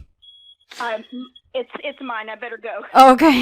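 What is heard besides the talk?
fire alarm going off in the background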